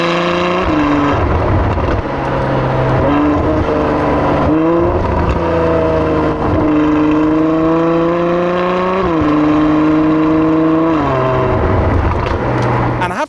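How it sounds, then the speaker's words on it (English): Ferrari F12 Berlinetta V12 with exhaust valves forced open, a loud, close, continuous engine roar climbing and dropping through several rev changes and gear shifts over about thirteen seconds. "now I can force the valves to be open all the time, meaning it sounds a little bit more like this."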